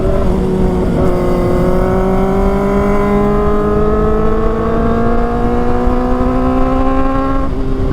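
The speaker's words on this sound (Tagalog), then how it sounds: "Ganda ng tahimik na muffler eh." Loud, close motorcycle engine with a quiet muffler, a smooth continuous drone that slowly rises in pitch as it accelerates, steady and unbroken with no talk.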